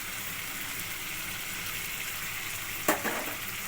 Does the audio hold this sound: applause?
no